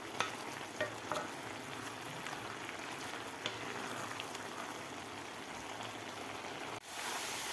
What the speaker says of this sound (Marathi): साखर घातल्यानंतर मी 4 ते 5 मिनिट हलवा परतून घेतलेला आहे.